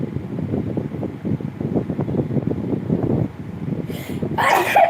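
A sneeze bursts out sharply near the end, close and loud, after several seconds of steady windy, rumbling background noise with no clear talk.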